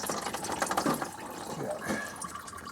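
Coolant drains from the engine of a 2010s Dodge Ram with a 5.7L Hemi during thermostat replacement, heard as a faint, soft trickle and splash of liquid over a short span.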